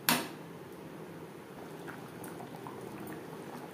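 Potato and pointed gourd gravy simmers in a pan. A brief splash at the start gives way to soft, continuous bubbling, close and fairly quiet, with no talking.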